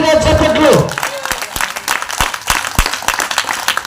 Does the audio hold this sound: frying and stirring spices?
no